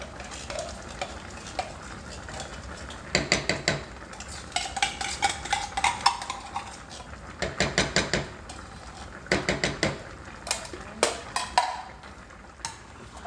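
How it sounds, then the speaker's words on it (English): A spoon stirring cream of chicken into a pot of chicken, with repeated scraping and clunking against the pot in bursts over a soft sizzle, close and moderately loud, without talk. "we're just gonna mix it in to make sure it's blended all over the chicken."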